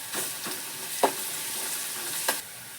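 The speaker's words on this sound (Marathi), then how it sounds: "आता थोडीशी आपण लसणाचा कूट घालतोय त्याच्यामध्ये तो पण असा पूर्ण परतून घ्यायचा" Crushed garlic sautés with fried onion in a pan, a soft continuous sizzle broken by a few short spoon scrapes and taps, close and without talk.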